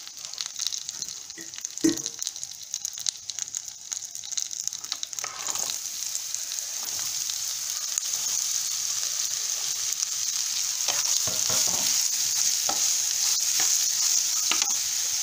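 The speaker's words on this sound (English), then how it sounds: "I'll give it a mix and allow it to cook and soften before I add in the coconut" Ridge gourd with mustard seeds, curry leaves and tamarind cooks in a pan, a steady bright sizzle running throughout, with occasional scraping stirs and clatters of a spoon up close, no voices.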